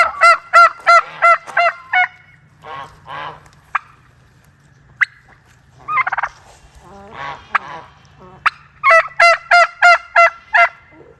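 Loud, close bird calls in rapid bursts of honking and gobbling, several runs of repeated notes with brief quieter gaps between.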